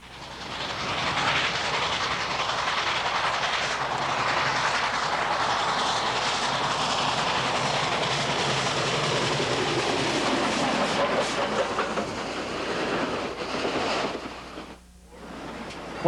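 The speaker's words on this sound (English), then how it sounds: "Climb aboard the Challenger to see what it's like in the cab of the world's largest operating steam locomotive." Union Pacific 3985 Challenger, a huge steam locomotive, running as a steady loud broadband roar with rhythmic wheel clatter throughout, briefly dipping near the end.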